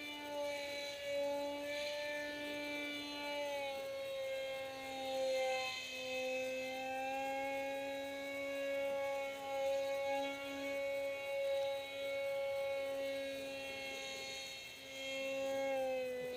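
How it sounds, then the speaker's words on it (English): An RC model MiG 1.44 flatpack plane flies by with a steady, fairly loud electric motor whine that drifts in pitch as it passes, heard alone throughout. "It's really an amazing plane though."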